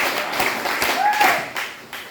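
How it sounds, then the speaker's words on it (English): Students at an Anglican junior high school clap briefly for a reading competition winner, a scattered, uneven burst of claps with voices mixed in. "let's clap for Blue for performing very well"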